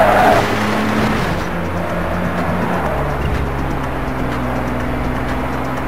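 A car in the PS2 game The Getaway drives with a loud, steady engine drone and rumble for several seconds, with a brief sharper burst at the very start and no speech over it.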